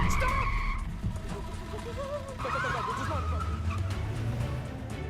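A car driving off after being hijacked in a film scene, with tires squealing and the engine revving as it pulls away, under dramatic background music with no voices.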